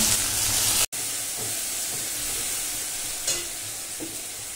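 Food frying in a pan at home, a loud continuous hiss and sizzle with light stirring scrapes, broken by one sudden drop-out early on.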